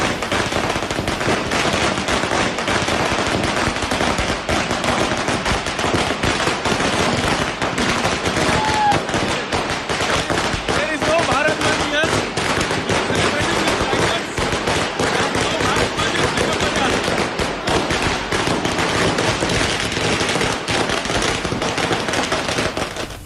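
Shopkeepers set off firecrackers at Begum Bazaar market in Hyderabad during a bandh, producing loud, dense, continuous crackling bursts that rattle on without pause for over twenty seconds, with faint voices mixed in.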